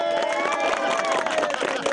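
A crowd of supporters outside a house cheers a victory, a dense, loud, continuous roar of voices and shouts with whistle-like tones running throughout.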